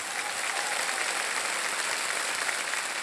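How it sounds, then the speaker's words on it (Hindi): Steady applause from a studio audience on the Indian quiz show Kaun Banega Crorepati, dense and continuous clapping filling the room without letup. "ताली बज जाए इनके लिए।"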